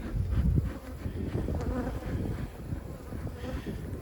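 A dense, continuous buzz of many honeybees around an open hive during an inspection hums nearby, steady and layered, with light wind rustle in the background.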